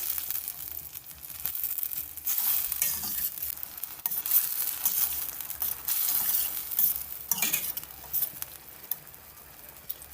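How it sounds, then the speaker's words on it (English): Food fries in a pan while being stirred, with an irregular sizzle and intermittent scraping and rustling of the utensil, close by and fairly quiet, no talking. "Giving it a stir."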